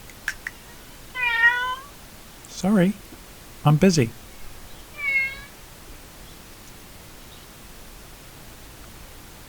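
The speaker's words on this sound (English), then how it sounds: "hopefully the cat doesn't make any disturbance while we're doing this" Domestic cat meowing several times nearby, short rising-falling calls spaced over a few seconds in a quiet workshop, with a person speaking briefly between them.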